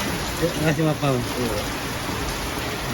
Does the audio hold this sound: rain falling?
yes